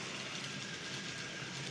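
A model railway train runs steadily throughout, a continuous close rolling rumble with faint rail clatter and no gaps.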